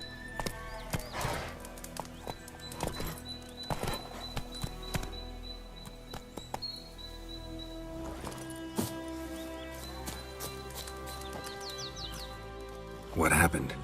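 Roach, a horse in the video game Witcher 3, galloping with steady hoof clip-clops and an occasional whinny, mixed with game music, birdsong and characters talking over it.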